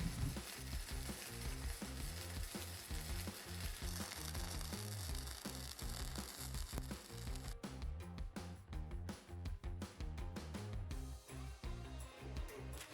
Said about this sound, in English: I'm now going to start welding it all up by tacking it together